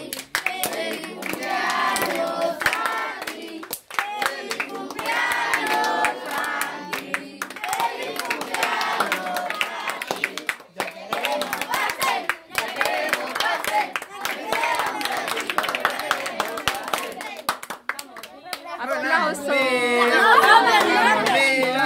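Guests at a 14th birthday party clap along amid loud chatter and singing voices, steady handclaps mixed under continuous talk and music-like voices, rising louder near the end.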